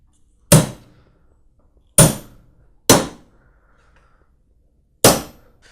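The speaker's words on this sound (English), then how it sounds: "We tend to punch the nails in" A hammer drives a nail punch to set nails into a National gabled beehive roof: four sharp, loud metallic taps, spaced irregularly with brief ringing decays and quiet pauses between.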